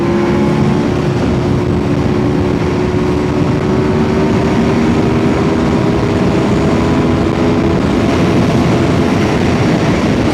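An Aprilia RSV4 superbike engine screams at full throttle in fifth gear, a loud, sustained high-revving tone that climbs slightly while wind roar surrounds it the whole time.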